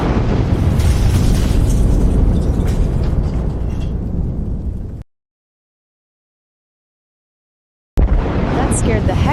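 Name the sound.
AI-generated explosion visual effect with sound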